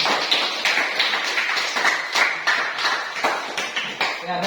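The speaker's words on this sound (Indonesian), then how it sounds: "berikan aplaus untuk kelompok" A classroom full of students claps for a presenting group; the dense, steady patter of many hands fills the room from start to finish at an even level.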